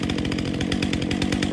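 A Stihl chainsaw rattles and revs as it starts up after cranking, a rapid buzzing engine pulse running steadily and close by with no talk.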